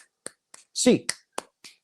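Hands clap eight times, spaced roughly a quarter second apart except for one longer, louder burst in the middle, close and crisp, as a cheer after a UCLA basketball game.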